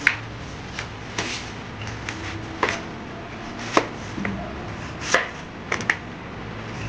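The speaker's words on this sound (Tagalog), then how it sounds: "Tapos, tsatsapin na namin, hihiwa-hiwain." A knife chops vegetables such as carrots and celery on a cutting board in irregular, sharp knocks, about a dozen close, crisp strikes spaced unevenly with brief pauses between.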